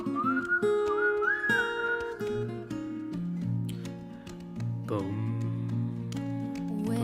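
Whistled melody opening a recorded song, a sliding, clear tone carried over bass and accompanying instruments, loud and continuous throughout.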